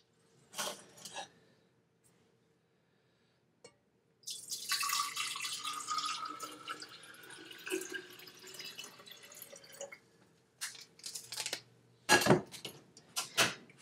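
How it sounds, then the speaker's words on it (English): Heated coconut water is poured into a glass jar, a sustained liquid splash and trickle lasting several seconds between brief clinks and taps, close by and fairly quiet. "heated up the coconut water a little bit, so now I'm going to add it to a glass jar"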